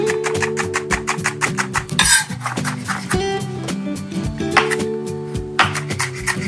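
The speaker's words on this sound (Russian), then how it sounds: "Теперь мелко порублю белую часть лука-порея" A knife finely chops the white part of a leek and dill on a cutting board, with rapid, regular strikes and a brief pause midway, all over soft background music.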